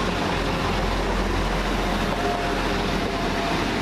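A loud, steady rumble of a passenger train, unit 175103, rolling by near Pencoed, Wales, broad and continuous with no voices, holding constant throughout.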